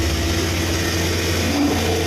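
A ship's cargo hatch cover hydraulic motor starting up, giving a continuous, dense mechanical hum and drone with a low steady tone, close and loud with no talk over it.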